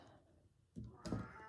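A cat gives two short meows close by, the second louder and more drawn out, after a quiet stretch of low background noise.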